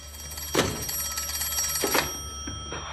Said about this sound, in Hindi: आपको फोन उठा लेना चाहिए